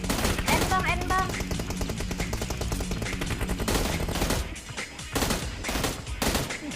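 M16 gunfire in the mobile battle-royale game PUBG Mobile: rapid bursts of automatic shots crackle in quick succession, pausing briefly, then resuming with several separate loud bursts.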